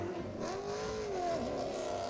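A rally car drives a desert stage in Morocco, its engine a steady, moderately distant drone whose pitch climbs and dips briefly, heard alone without voices.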